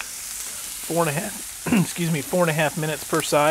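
T-bone steaks sizzle on a hot Camp Chef FTG600 griddle, a steady crackling hiss running under a voice as he talks through the whole stretch.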